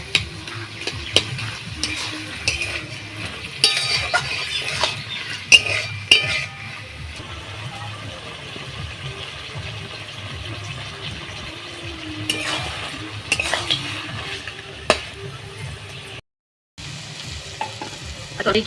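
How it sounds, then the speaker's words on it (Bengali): Taro leaves cooked with crab are stirred in a frying pan, producing a soft sizzle under repeated scraping and clinking strokes of a metal spatula against the pan, near and irregular, with a brief silent gap near the end. "কচুটা ভালো করে এরকম করে নাড়াচাড়া দিয়ে নেবো পুরো শুকনো হবে"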